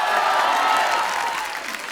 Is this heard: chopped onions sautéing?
no